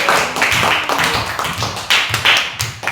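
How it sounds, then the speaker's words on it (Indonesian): A classroom of students claps hands together, a dense, irregular patter of sharp slaps lasting a few seconds at close range with no talking. "Tepuk tangan."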